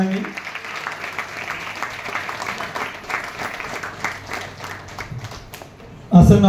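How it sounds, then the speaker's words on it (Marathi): An audience at an award ceremony gives sustained, dense applause that holds steady for several seconds before a louder burst of noise at the end. "जोरात टाळ्या वाजवा सगळ्यांनी"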